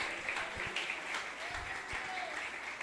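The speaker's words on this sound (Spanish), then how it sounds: "Dele ese aplauso fuerte con alabanza que salga de sus labios." A church congregation clapping during a worship service, a quiet continuous patter of hands heard at a distance, with a sung voice faintly over it.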